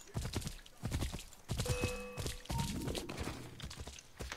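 Horse hoofbeats in Assassin's Creed III clatter in an uneven clip-clop under bursts of game noise, with a short whinny-like tone in the middle; busy and fairly close.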